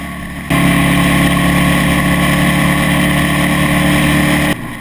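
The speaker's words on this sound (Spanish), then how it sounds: "es grato dar un paseo en moto por nuestra ciudad" A motorcycle rides along a city boulevard in Nuevo Laredo, its engine a loud, steady drone with a constant tone that holds for about four seconds before cutting off abruptly.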